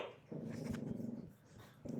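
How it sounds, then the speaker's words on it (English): A dog growls and grumbles in low, rumbling stretches with a sharper bark-like burst near the middle, heard indoors at a moderate distance and fairly quiet. "Hold on, my dog's barking."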